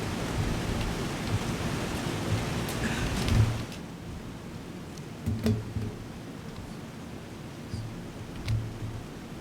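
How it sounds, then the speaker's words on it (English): Heavy rain pours steadily outdoors in a dense, continuous hiss, with occasional louder drips and low rumbling swells. "I'm competing with the rain."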